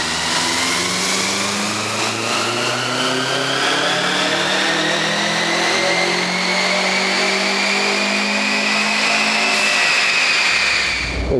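Subaru Impreza GC STI engine revving hard through tuning pulls, a loud, continuous rising engine note climbing steadily for about ten seconds from inside the car before dropping off at the end.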